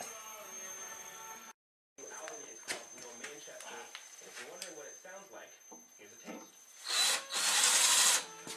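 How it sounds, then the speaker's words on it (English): A power drill drills out bolt holes in a workshop, giving short bursts and then a louder, sustained grinding whir near the end, with people talking over the quieter stretches. "So we're just in the process of drilling this out, popping some rivets in"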